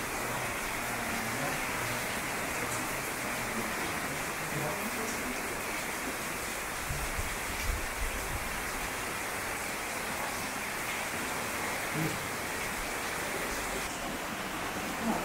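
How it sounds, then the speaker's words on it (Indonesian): Steady rain falls outdoors in cool weather in front of Gunung Pancar, a dense, even hiss that fills the whole stretch without pause, with faint scattered knocks underneath. "Kondisinya hujan."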